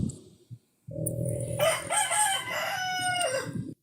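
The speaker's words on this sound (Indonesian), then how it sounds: "Nah itu ayam membenarkan" A rooster crows loudly and close by, one long drawn-out call with a rising then sustained tone, after a brief low rustle and a short pause.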